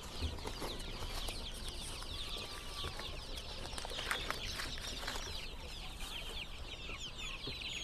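Young native kampung chickens of an improved breed, housed crowded together in a brooding pen at a farm supply shop, cluck and cheep softly and continuously as a dense, faint chorus.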